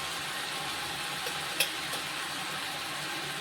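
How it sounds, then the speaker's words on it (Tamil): Chicken filling for samosas fries steadily in a pan while it is stirred, a constant sizzling hiss with one brief scrape of the spoon near the middle. "சிக்கன் இந்த அளவுக்கு நல்லா கிண்டிக்கிட்டு இருப்போம்"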